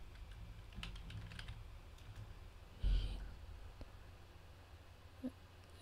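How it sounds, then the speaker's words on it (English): Fingers type on a computer keyboard, a quiet scatter of soft clicks and taps heard close with faint room noise, plus a louder bump partway through. "type in personalization."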